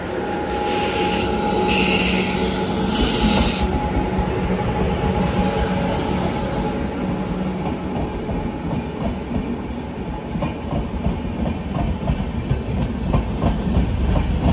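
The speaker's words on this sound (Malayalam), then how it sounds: "അപ്പൊ ഇതാ ആലപ്പുഴ ധൻബാദ് എക്സ്പ്രസ് വരുന്നുണ്ട്." The Alappuzha Dhanbad Express rolls into Chalakudy station, wheels rumbling and squealing in a loud continuous roar, with rhythmic clatter over the rail joints and no voices.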